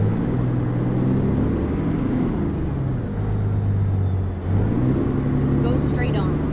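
A truck engine in American Truck Simulator drones with a deep, loud rumble whose pitch climbs and falls through gear changes, briefly dipping before revving back up, while someone talks over it.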